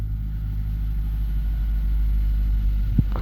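A Nissan X-Trail hybrid engine running steadily around 1500 rpm, a close, even droning hum with a brief bump near the end.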